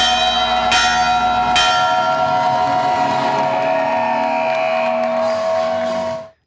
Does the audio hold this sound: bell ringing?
yes